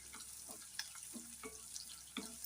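Quiet sizzling of onions and meal maker (soya chunks) frying in a pan, with faint stirring scrapes and clinks recurring throughout.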